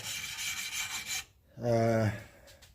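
Metal file drawn across an axe blade to sharpen a bevel of about 25 degrees: a bright, gritty rasping stroke, a short pause, then a second lower, buzzier scrape, close and clear, with no speech.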